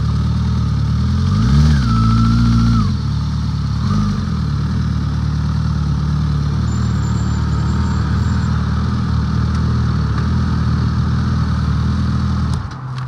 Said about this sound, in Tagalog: Ilagay ko lang yung motor dun, sir.